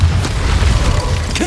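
Bombarda spell blast from Hogwarts Legacy, a loud, deep boom with rumbling low end that fills the moment, followed by a short rising tone.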